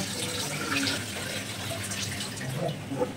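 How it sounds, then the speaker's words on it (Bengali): Rice being rinsed under running tap water in a home kitchen, a steady close splashing stream with faint drips and small clinks throughout, no talking. "চাল ধোয়া হয়ে গেছে"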